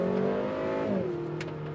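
A 2025 Acura TLX A-Spec sports sedan accelerates hard, its engine note rising in steady pitch and then shifting down as it changes gear, heard from inside at moderate loudness without talk.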